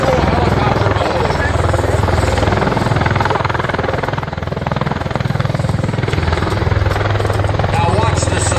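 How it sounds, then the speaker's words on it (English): A V-22 Osprey tiltrotor descends for a vertical landing in helicopter mode at an air show, its rotors making a loud, continuous low thrum and roar that holds steady throughout. "Execute a vertical landing in the total helicopter mode."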